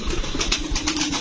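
Fancy pigeons at a farm coo steadily and close by, a low murmuring burble running throughout, with occasional soft flutters and rustles mixed in.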